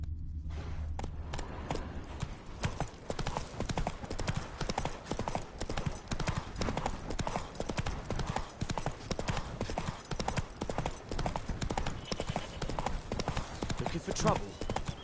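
Horse Roach's hooves clip-clop in a steady walking rhythm on a road in The Witcher 3, continuing close and clear for the whole stretch, with a voice speaking briefly over them.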